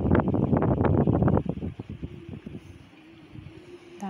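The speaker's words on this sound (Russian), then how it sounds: "Да, ветер сильный." Strong wind at the port of San Remo, Italy, buffets the microphone in loud, rough gusts that ease off into a lower steady rush with faint background hum.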